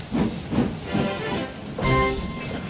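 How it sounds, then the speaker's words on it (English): Simulated steam locomotive pulling away in Trainz, its steady chuffs repeating about every half second before a short, bright whistle cuts in near the end. "Alicia Botti boarded the train and Percy steamed away."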